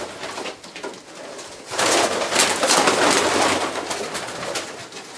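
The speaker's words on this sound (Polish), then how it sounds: "Koledzy mają tutaj, mieli, można powiedzieć, gołębnik umieszczony na strychu." Racing pigeons cooing and calling together in an attic loft, a dense, steady mass of birdsong that swells louder after the first couple of seconds and stays busy throughout, with no talking.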